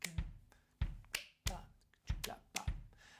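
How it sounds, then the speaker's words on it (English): Sharp hand claps fall in a syncopated rhythm with accents on the off beats, about eight crisp claps close to the listener over a few seconds, with no talking. "So clap with me."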